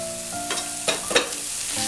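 Chana masala with chat masala fries in a pan, a soft steady sizzle broken by a few quick spoon scrapes and taps over two seconds, close by and without talking.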